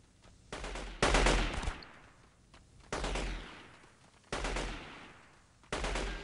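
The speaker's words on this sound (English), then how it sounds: "where are you getting shot from?" Bursts of gunfire in the video game Delta Force 2, a POW rescue jailbreak mission: four loud, close volleys of automatic fire, each a rapid rattling burst of about a second, separated by short lulls with no talking.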